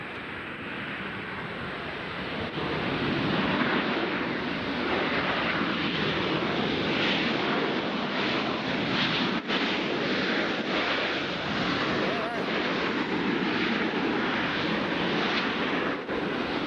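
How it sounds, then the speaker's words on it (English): A WestJet airliner landing at Nashville airport produces a broad, steady jet roar, loud and sustained, with faint wind buffeting on the microphone. "WestJet, why are they landing over here?"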